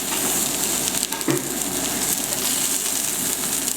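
Bacon, tomatoes and sausages hiss on a grill while cooking a breakfast, giving a loud, continuous crackling sizzle with a faint clatter partway through.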